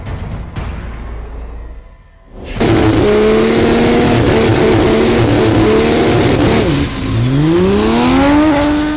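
A drag race car at a 2016 sport compact event launches with a sharp burst, then its engine roars loud and close, climbing through rising, high-pitched revs with gear changes as it accelerates down the strip.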